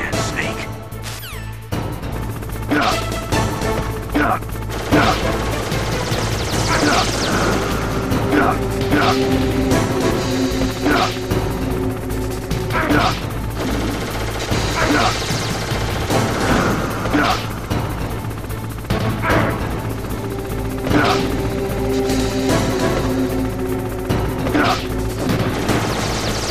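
Bursts of rapid gunfire from a Hind helicopter and crashing impacts repeat over a constant low mechanical drone in Metal Gear Solid, with game effects layered densely throughout.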